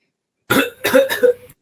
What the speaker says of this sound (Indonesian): Batuk dia.